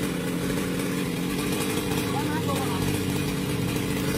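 A motor saw cuts a 14 metre coconut tree into many sections, its engine droning steadily and loudly throughout while someone talks over it.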